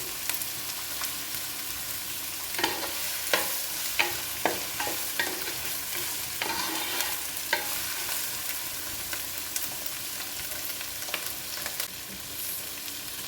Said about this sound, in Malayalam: അതുകൊണ്ട് നന്നായിട്ട് വേവിച്ചൂട വെളുത്തുള്ളി.